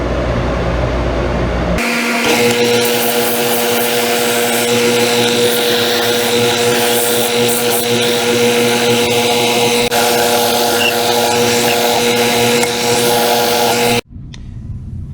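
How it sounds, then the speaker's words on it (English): A loud, steady electric power tool whine runs continuously for about twelve seconds, then cuts off abruptly. "we'll start sanding out these ends, and we'll get them nice and smooth"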